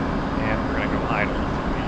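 Jet engine of an F/A-18 in the DCS flight simulator drops toward idle, a steady broadband roar with a faint whine holding level through the clip.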